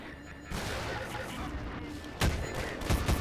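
Guns from a Garry's Mod weapon pack fire in the game: a few sharp, loud shots land late in the clip over a steady game background.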